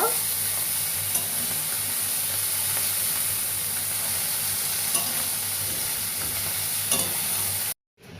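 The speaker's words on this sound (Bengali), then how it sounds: "পুঁটি মাছগুলো ভালো করে আমি এপিট ওপিট ভাজা করে নেব।" Puti fish frying in very hot oil in a kadai, a loud, dense, continuous sizzle with faint spatters, close and steady until it cuts off abruptly near the end.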